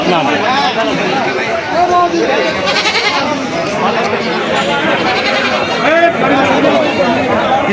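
Goats bleating at a busy village livestock market (haat) in Kaharole, Dinajpur, with repeated calls heard over loud crowd chatter and nearby talking.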